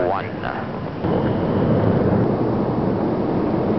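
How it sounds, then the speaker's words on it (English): A deep, continuous roar from Concorde's four reheated Olympus jet engines accelerating through the sound barrier, a broad rumbling wash of sound that swells louder after the first second and stays steady. "25 tons of thrust from the four reheated Olympus engines smoothly accelerates Concorde through the mythical sound barrier"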